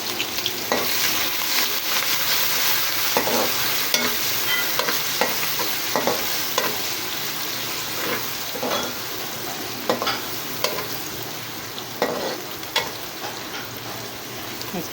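Onions with garlic ginger paste fry in a pan for khichri, a steady close sizzle with repeated scraping stirs throughout.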